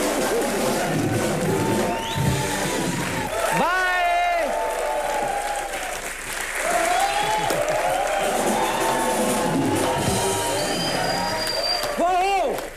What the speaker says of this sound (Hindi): जोरदार तालियां हो जाए जरा